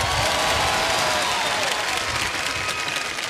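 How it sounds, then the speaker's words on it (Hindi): A studio audience at a televised quiz show breaks into dense, sustained applause that holds steady for the whole stretch, loud and close, with faint cheering mixed in. "और इस बात पे तालियां बज जाएं तो अच्छा लगेगा।"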